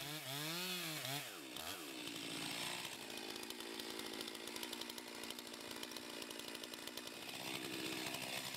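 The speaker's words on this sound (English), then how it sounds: "I'm gonna make a bottom cut into it from here and try to make that meet perfectly so I don't have an overlap" Chainsaw cutting the bottom notch in a standing tree during felling, the engine revving up from idle and then holding a loud, steady buzzing cut right up close.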